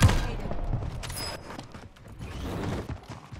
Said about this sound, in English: Okay, I'm getting shot by two of them.